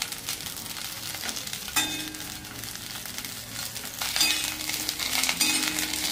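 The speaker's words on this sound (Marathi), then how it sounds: "असं आपल्याला 1-2 मिनिट असं हलवायचं याला बारीक गॅसवर। थोडंसं तेलात परतून घ्यायचं यांना।" Brinjal pieces fry gently in a little oil over a low flame for a Maharashtrian vangi bhaji, a quiet steady sizzle broken by clinks and scrapes of a spoon stirring against the pan, with a louder stretch near the end.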